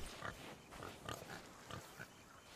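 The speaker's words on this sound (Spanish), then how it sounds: "un cerdo vietnamita o negro" A black Vietnamese pig in the video game Sea of Thieves grunts and oinks in several short bursts, fairly quiet and close.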